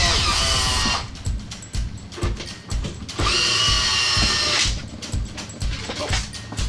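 A power drill backs screws out of the top of a wooden crate holding a 2014 Origin PC Genesis computer, whirring in several close, loud bursts separated by brief pauses.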